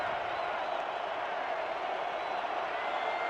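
A football stadium crowd roars steadily and loudly as a broad, unbroken wash of noise with no pauses.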